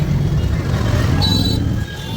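Steady, close road traffic rumble heard from a rickshaw riding to the railway station in Cox's Bazar, a continuous low drone of passing vehicles with a brief higher whine in the middle.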